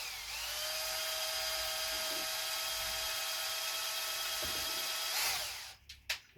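A power drill turning a degasser in wine whines steadily at high speed for several seconds, close and loud, then winds down and stops with a few clicks.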